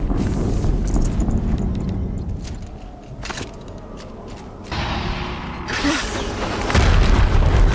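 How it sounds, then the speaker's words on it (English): Repeated heavy booms from explosions in Horizon Zero Dawn roll out at intervals, loud and deep, each followed by rumbling debris and a sustained roar building toward the end. "Another explosion."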